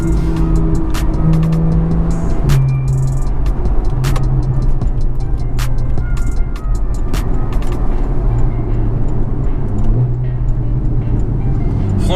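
A Porsche 911 50th anniversary edition driven hard, its engine revving loud and close through repeated climbs and gear changes, with sharp exhaust pops and a constant rumble throughout, no voices.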